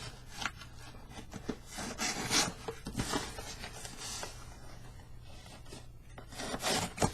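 A knife blade scrapes and saws at a small cardboard package in a series of soft, quiet rubbing and scratching strokes, heard close up with no talking.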